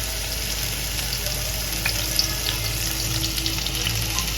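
Seer fish (vanjaram) frying on a tawa over a slow flame gives a steady, close sizzle with soft crackles throughout, and no one speaks.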